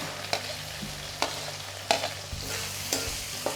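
Ginger, garlic and onion sautéing in a pan for chutney: a constant low sizzle broken by periodic spatula strokes and scrapes against the pan, close and unhurried, with no talking.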